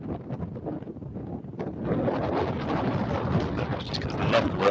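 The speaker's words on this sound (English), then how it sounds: "Really windy." Heavy wind at Birmingham Airport buffets the microphone in rough, continuous gusts, building louder after the first couple of seconds, with a faint watery wash underneath.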